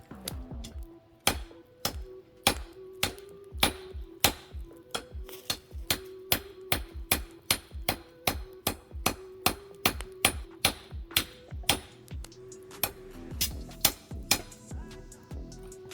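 Hammer blows ring out on yellow-hot metal at a homemade DIY blacksmithing forge, a steady run of sharp metallic clangs about two per second, loud and close, with a brief pause near the end before a few final strikes.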